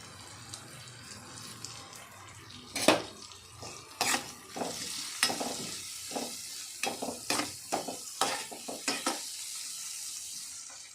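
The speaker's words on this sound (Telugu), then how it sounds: "ఉల్లిపాయ మంచిగా వేగాలి" Onions and curry leaves frying with turmeric and salt in a pan, a steady hiss of sizzling broken by a run of sharp scraping, clattering stirring strokes, close with no talk.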